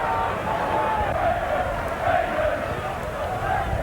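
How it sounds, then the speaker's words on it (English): A Wigan rugby league crowd at a match against Warrington roars steadily and at a distance, with a continuous wash of cheering voices and a commentator talking over it. "the Wigan crowd now getting behind their team"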